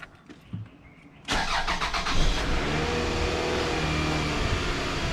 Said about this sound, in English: So now I'm going to start up the vehicle.